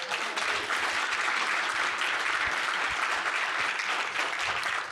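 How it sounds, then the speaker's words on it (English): Audience at a live Wisconsin political event cheering and applauding, a continuous, even roar of clapping from a large room full of people, steady and moderately loud for the whole stretch. "the cheering for the possibility of fair maps"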